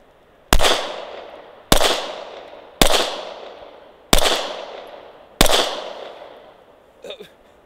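Five sharp, loud pistol shots from a Glock 19X ring out at an even pace about a second apart, each trailing a short echo, followed by a faint metallic clink.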